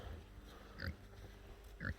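Hungarian Mangalica piglets grazing on grass outdoors in winter give two short, soft grunts about a second apart over quiet background noise.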